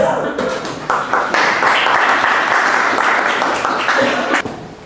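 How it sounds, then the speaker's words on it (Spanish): Audience applause at a doctoral student literature colloquium in Peru, a steady wash of clapping from a seated crowd that holds for several seconds and then stops. "Un aplauso para él."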